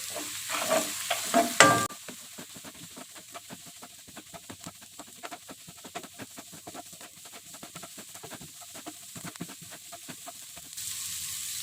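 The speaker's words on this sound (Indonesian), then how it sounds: "Lalu kita aduk saja di sini, kita aduk rata ya." Eggs are stirred in a sizzling frying pan, steady scraping strokes over a constant crackle of hot oil, after a brief louder clatter at the start.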